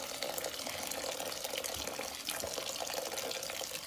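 Hot, already heated water pours from a container into a pot of rice, a continuous splashing, gurgling stream that keeps going steadily throughout.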